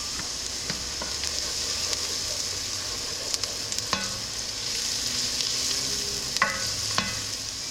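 Garlic powder from a home garden sizzles steadily in a hot pan while vodka sauce is being made, with a continuous close frying hiss and a few soft clinks of stirring.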